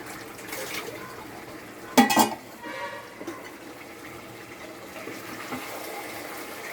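Dishes are scrubbed and rinsed under running water, a faint, continuous trickle with one brief clatter of metal vessels knocking together partway through.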